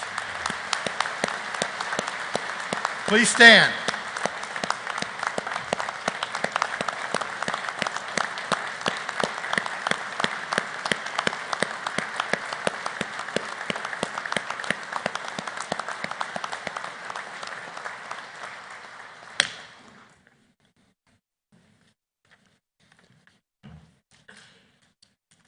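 Audience applause in a hall at a Grand Lodge annual communication, sustained steady clapping from many people for about twenty seconds, then stopping; a brief spoken request to stand comes over it.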